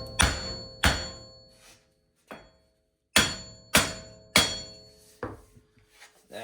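A big hammer strikes a broken U-joint on a Jeep Wrangler JK in about nine close, heavy metallic blows in two bursts, each leaving a short ringing decay.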